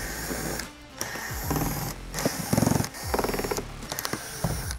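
A driver backs T15 screws out of the front lip of a Corvette C8, producing repeated short whirring bursts with brief pauses between them, fairly quiet and close, without speech.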